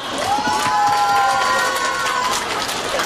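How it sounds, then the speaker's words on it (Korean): Crowd at a Daegu rally protesting illegal intelligence-agency interference in a presidential election fills the air with steady cheering and a sustained high whistle-like tone. The noise stays loud and dense throughout. "힘찬 발언해주신 백창훈 목사님께 다시 한번 박수 부탁드립니다"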